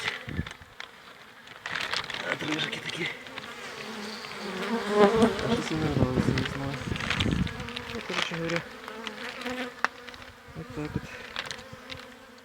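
Honeybees swarm and buzz in an open hive during a colony inspection after winter, a dense, fairly soft hum with scattered faint knocks and rustles and no talking.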